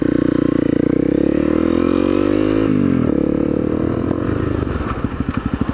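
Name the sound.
Honda CRF250L motorcycle engine while turning around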